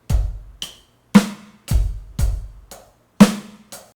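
A sparse drum kit pattern alternating deep bass drum thumps and sharp snare hits, close and clear, with short pauses between strikes.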